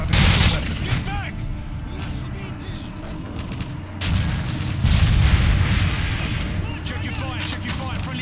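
Gunfire from the video game Modern Warfare 2 rattles through a loud battle scene, with bursts of shots and booming blasts layered under voices talking.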